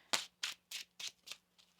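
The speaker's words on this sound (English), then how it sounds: "One more shuffle here" Tarot cards shuffled by hand in quick bursts, five or six crisp riffling sweeps spaced evenly, the last one softer, close and quiet with no talking.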